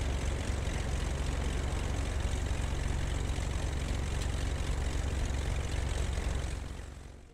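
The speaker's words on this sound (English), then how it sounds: "So we can go ahead and shut it down, get those cowl flaps, and we'll just turn it off." A small propeller airplane engine runs steadily in a flight simulator at a constant drone with a low rumble, then the sound fades away in the last second as the engine is shut off. No talk.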